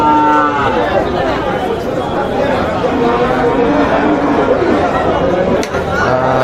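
A Friesian dairy cow at the Lalbag cattle market in Rangpur lets out low, drawn-out moos, heard close amid steady crowd chatter while a person talks nearby.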